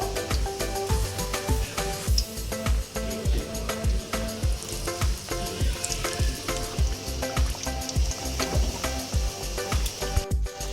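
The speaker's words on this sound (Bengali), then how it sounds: "কড়াইতে আমি রিফাইন তেল দিচ্ছি তেল আমি হালকা গরম করে নিয়েছি এবারে আমি কাটলেটগুলো ছেড়ে দেবো" Fish cutlets fry in refined oil in a wok over a low flame, giving a steady, close sizzle with crackling pops throughout. No one speaks.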